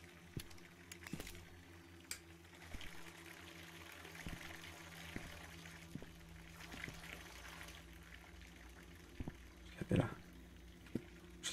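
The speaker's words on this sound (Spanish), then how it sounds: "Se está llenando el agua." Water pours and fills steadily in the Visage horror video game, a soft low running flow with scattered faint knocks and a louder splash-like burst near the end.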